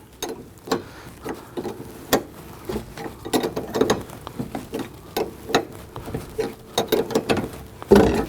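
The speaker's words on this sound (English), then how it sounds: "stabilize that, and then use our wrench to go ahead and tighten this down" Wrench tightening a rear shock absorber bolt on a 2001-2009 Volvo S60, heard as a close series of short metallic ratcheting clicks and clanks in irregular bursts, with no talking.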